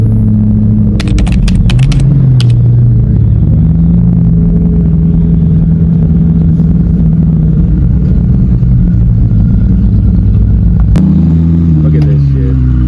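A deep, steady engine rumble comes from a Ferrari and Corvette Z06s cruising to an exotic car meet, the drone continuous and close throughout, with a few brief clicks mixed in.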